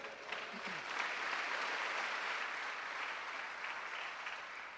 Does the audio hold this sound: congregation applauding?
yes